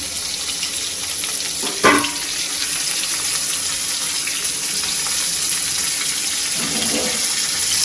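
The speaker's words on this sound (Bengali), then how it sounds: "পেঁয়াজগুলো ভেজে নিই।" Onions fry in hot oil in a wok for a poppy-seed dish, giving a steady, close sizzle throughout, with a brief clatter of stirring near the two-second mark and another softer one toward the end.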